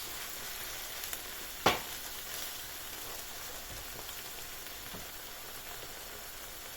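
Tomatoes and peppers frying in a pan give off a steady, fairly quiet sizzle, with one sharp tap near the start.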